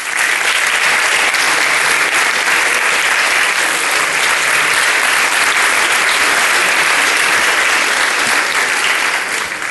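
A live audience gives loud, sustained applause for a young Turkish art music singer, a dense steady roar of many hands clapping all the way through, with no voices rising above it.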